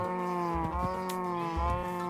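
Cows low in a blocky farming survival game, one drawn-out moo after another in a pen near sugarcane fields. The calls are clear and fairly close against a soft background with no talk.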